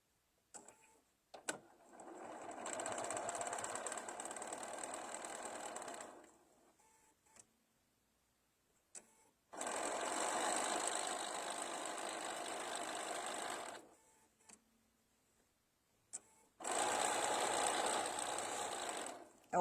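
A sewing machine stitches rickrack onto a towel in three separate bursts, each a steady close mechanical whir lasting a few seconds, separated by quiet pauses with small clicks.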